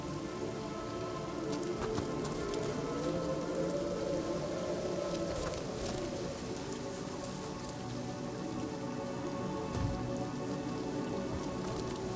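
Steady rain falls in the fantasy role-playing game Divinity: Original Sin Enhanced Edition, a constant close patter of drops on surfaces with a low soft rumble, continuous and even throughout with no talking.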